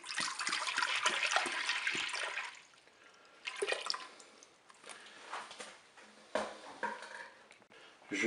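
Milk pouring into the bowl of a Cookeo electric cooker, a soft continuous liquid splashing that fades after a couple of seconds, followed by quieter intermittent trickles and drips, faint and close.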